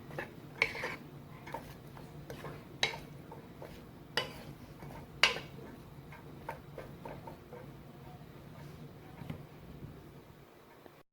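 Sweet potato stems tossed with seasoning in a pan, giving light scattered clicks and taps of a utensil against the pan over a soft steady sizzle, with no talking.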